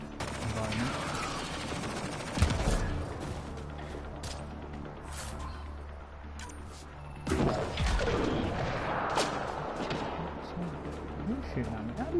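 Gunfire rattles in the video game Mass Effect Andromeda, sustained automatic bursts with sharp impacts and crashes, loud and close, running throughout under a player's talk.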